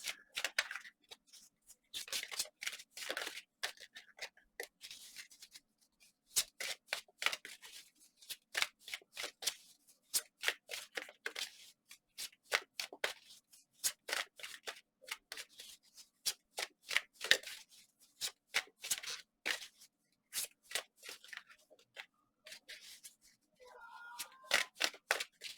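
Tarot cards shuffled by hand, a long run of quick, crisp riffling snaps and flicks in irregular bursts, close and fairly quiet.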